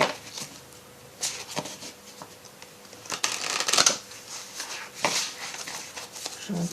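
Tarot cards being shuffled by hand in quick riffling bursts with soft slaps between them, close and moderately quiet, with a little faint talking in the background.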